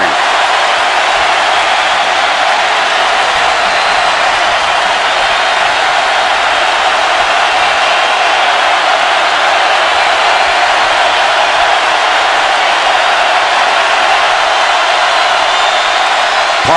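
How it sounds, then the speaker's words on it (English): Football stadium crowd at Auburn vs Clemson in 2010, a steady, loud broadband roar that holds without a break for the whole stretch, with no distinct cheers or single voices standing out. "Crowd roaring."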